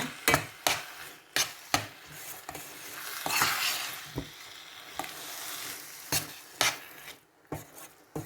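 A spatula scrapes and clacks against a frying pan in a quick, uneven rhythm of sharp hits over a soft sizzle of cooking food, close by, with no talk.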